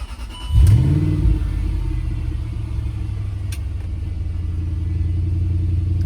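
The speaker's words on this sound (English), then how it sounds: "cold start. Truck's been sitting for probably 2 days" A 2005 Land Rover LR3 with a slightly modified exhaust cold-starts after sitting about two days: a brief starter crank, a loud surge of revs, then a steady, deep, rumbling idle carrying on alone.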